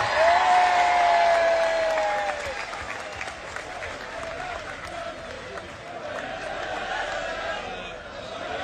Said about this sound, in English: he deserves all the applause he's getting right now